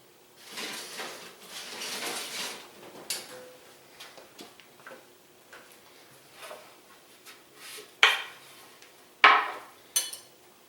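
A cookie sheet holding a hoagie roll goes back into a kitchen oven, giving light metallic clinks, a few scrapes and louder clattering knocks near the end, with no talking.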